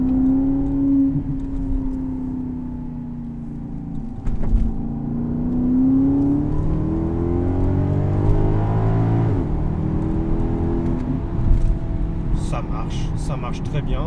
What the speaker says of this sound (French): on va pouvoir faire chanter le moteur et puis voir un peu ce qu'elle a dans le ventre